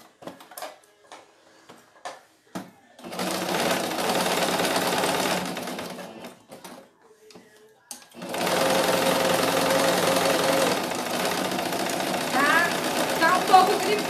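A sewing machine stitches a cloth doll in two bursts of fast, close mechanical whirring, one short and one longer, separated by a pause with light handling sounds, and someone speaks between the runs.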